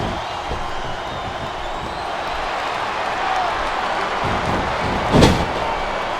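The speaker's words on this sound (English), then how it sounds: "I think this crowd's giving these superstars a piece of their minds, King." A wrestling arena crowd in the video game WWE SmackDown vs Raw 2008 gives off a constant diffuse roar, with a single sharp thud near the end.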